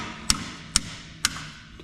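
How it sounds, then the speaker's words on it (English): Three sharp metallic taps, evenly spaced about half a second apart, from a brass hammer striking a tool on a brake line of a 1981 Cadillac Fleetwood, close and clear over a quiet background, the last one fainter. "Get yourself a brass hammer."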